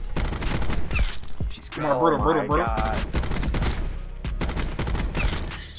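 Bursts of ABR 223 rifle fire in Call of Duty: Black Ops 4 crackle through a dense firefight, with rapid shots clustered at the start and end while excited players talk over the action.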